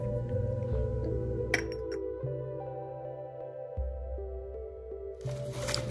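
A cobalt blue glass salt cellar is handled, giving a few sharp glassy clinks and taps, with one louder clink near the start and another burst toward the end over a quiet hum.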